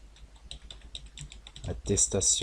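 Keys clatter on a computer keyboard as text is typed, with quick light clicks at first that grow louder and denser toward the end, heard alone without any talk.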